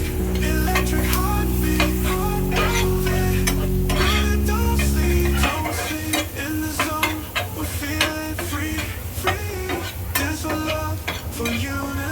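Ten to twelve finely chopped garlic cloves fry in a pan for a chicken garlic fry, with a loud continuous sizzle and repeated stirring clatter of a spoon, close up and without talk.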